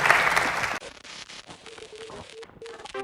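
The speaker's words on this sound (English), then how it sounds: "Round of applause for Douglas and Pangburn Philosophy for putting this on." Audience applause at a Pangburn Philosophy event with Douglas Murray, a short loud burst of clapping that cuts off abruptly and leaves quiet room noise with scattered faint sounds.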